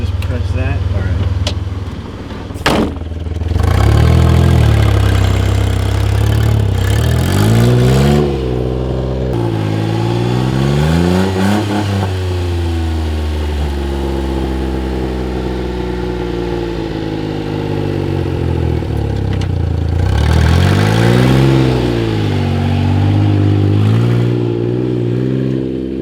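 A kei truck stuck in snow revs its engine again and again in rising and falling surges, loud and close, with people talking over the straining motor.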